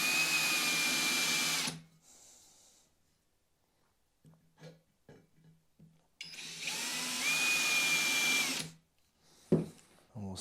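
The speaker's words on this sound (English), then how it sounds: "we literally drill into as many as we can get to" A power drill whines loudly while drilling into bare metal on a Royal Enfield bobber motorcycle for a couple of seconds, stops amid quiet clicks and handling noise, then runs again for a longer steady burst.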